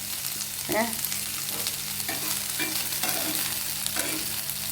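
Homemade dried fish frying and being stirred in a pan for chammanthi, a steady close sizzle with repeated scraping stirs throughout.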